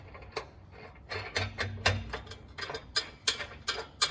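Flat washer, spring washer and nut being hand tightened onto a bolt, giving a run of quick light metallic clicks and ratchet-like ticks, close and fairly quiet.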